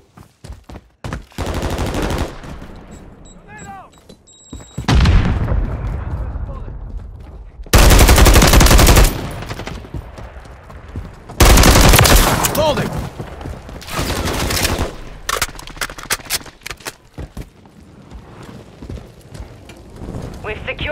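Bursts of SVA-545 assault rifle fire in a Call of Duty MW3 Team Deathmatch match on the Invasion map, loud rapid volleys and booming blasts coming in waves, with game voices calling out between them.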